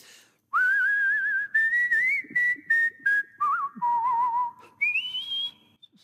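A clear, close whistled melody with sliding pitches and short pauses between phrases, carried alone without any talking.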